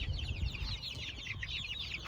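Chickens in a coop give soft, quiet clucking and chattering calls in a quick, steady run over a low background rumble.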